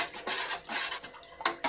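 A spoon stirs glue into water in a cup in short rasping strokes, ending with a couple of light clinks against the side.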